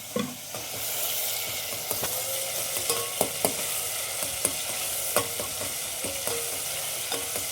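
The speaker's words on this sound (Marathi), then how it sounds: "मस्त अशी फोडणी देत आहे मी" Tempering spices sizzle in hot oil for phodni, a steady frying hiss punctuated by repeated sharp clinks of a spoon stirring the pan, close and with no voices.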